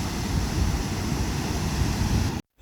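Surf and wind roll steadily along a beach in Oman, a continuous broadband wash with gusty rumble, close and fairly loud, cutting off abruptly at the end.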